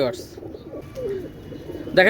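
Pigeons cooing in a loft, soft low throaty coos repeating close by, with a brief sharper bird call at the start and the end.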